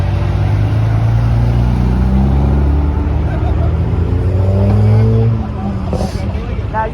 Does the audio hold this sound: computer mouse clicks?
no